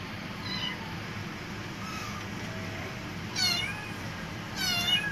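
Several young kittens around three and a half to four weeks old mew in short, high cries, a few scattered early and clearer bursts near the end, over a steady low background hum.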